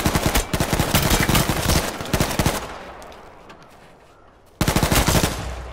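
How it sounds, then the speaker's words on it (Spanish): Rapid machine-gun fire aimed at the player in H1Z1 crackles loud and close in a dense burst, falls into a quieter lull, then breaks out again in a second sharp volley. "Mira, ahí me están disparando."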